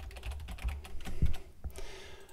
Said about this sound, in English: So right now you're going to pick a password you can remember and type it more than once.